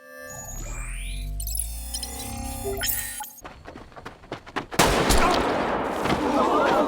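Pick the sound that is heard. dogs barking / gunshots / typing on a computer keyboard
gunshots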